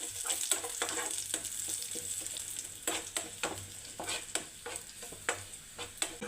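Large curry leaves crackle and sizzle in hot oil for chutney, with repeated sharp spatters and stirring scrapes over a steady frying hiss, close and fairly loud.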